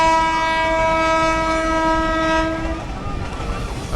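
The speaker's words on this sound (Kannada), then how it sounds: "ಮುನಿರಾಬಾದ್ ಮೇಲೆ ಹೋಗ್ತಾ ಇದೆ ಟ್ರೈನ್" A train passes near Huligi temple headed toward Munirabad, its loud, sustained horn sounding close for several seconds before cutting off, leaving a rumbling rail noise.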